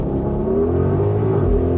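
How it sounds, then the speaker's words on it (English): A 2025 Audi RS Q8 performance SUV launching under launch control, its engine roaring loud and steady with a continuous rising drone throughout, close and alone. "let's just do a launch control with it to see how crazy it actually goes"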